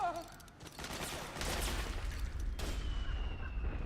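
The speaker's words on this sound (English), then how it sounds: "I heard gunfire over there, but I don't know where" Gunfire from the Metal Gear Solid video game: bursts of rapid shots and booming blasts in a dense, continuous volley, with a brief sharp crack partway through, fairly loud throughout.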